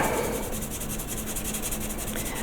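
Fine sandpaper rubs against a part of a Star Trek Enterprise Into Darkness model kit, making a steady, close scratching that runs without a break.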